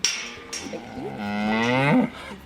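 A dairy cow on a Tirau farm gives one long, loud moo from close by in the barn, swelling into a drawn-out, rising bellow that cuts off sharply near the end, with no talking.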